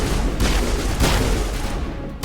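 Grenade launcher blast in Mass Effect, a heavy booming explosion with rumbling low end among sustained battle gunfire, loud and continuous with a second burst midway.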